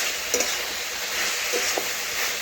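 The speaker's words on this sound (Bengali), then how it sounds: "এখন আমি আবারও নাড়াচাড়া করে আবারও একটু ভেজে নিচ্ছি।" Vegetables for a Kolkata-style vegetarian curry are stirred and fried in a pan, giving a steady hiss of frying with a few soft scrapes of the spatula close by and no one talking.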